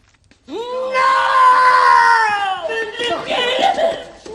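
A man screams in a prison-cell scene from The Green Mile film, a loud, sustained anguished wail lasting a few seconds that breaks into ragged cries and strained sounds.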